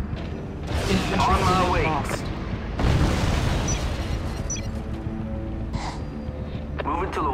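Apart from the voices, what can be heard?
artillery fire explosions in the video game Act of War: High Treason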